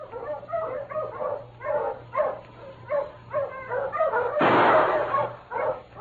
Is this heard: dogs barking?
yes